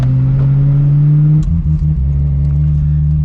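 Ferrari 355 F1 engine loudly droning at low revs, then a clunky downshift with a brief clatter as the car slows and the note settles lower.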